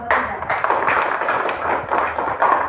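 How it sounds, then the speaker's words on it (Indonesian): Students in a classroom clap for group 3 after its presentation, quick, fairly close, uneven handclaps with a few louder taps. "Tepuk tangan dulu untuk kelompok"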